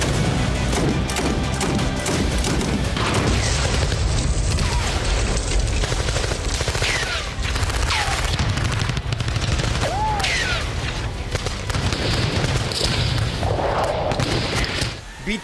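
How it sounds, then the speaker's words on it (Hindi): Airstrike on the Al Dailami air base near Sanaa International Airport in Yemen, with a dense, continuous clatter of gunfire and booming explosions filling the whole stretch and a loud, chaotic din throughout. "सऊदी अरब समर्थित लड़ाकों ने ईरान समर्थित शिया हूती विद्रोहियों पर एयर स्ट्राइक कर दी।"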